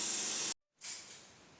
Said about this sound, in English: Now we are going to wait the oil to drain